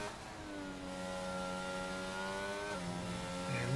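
A race car in a racing video game pulls out of a corner at the Bahrain Grand Prix circuit, its engine note climbing steadily through the gears with one shift, loud and continuous.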